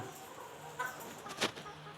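Chickens cluck softly in a coop as they are fed by hand, with a few short louder calls rising over steady low background noise.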